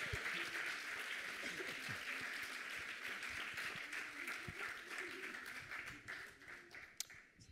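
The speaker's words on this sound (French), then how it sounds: "des applaudissements très nourris, très mérités" Sustained applause from an audience at a national prize-giving ceremony for a youth solidarity contest, dense clapping holding steady for about six seconds before thinning out and fading near the end.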